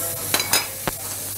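Chickpeas dropped into tomato passata in a hot pan make a few soft splats and stirring scrapes over a steady sizzle, close and fairly loud.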